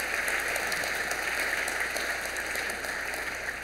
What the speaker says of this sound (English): Could we have a round of applause for our speakers this evening?